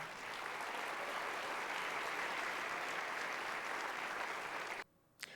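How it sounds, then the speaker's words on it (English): Dense, steady applause from a large audience fills the air for about five seconds, then cuts off abruptly. "Give them a round of applause"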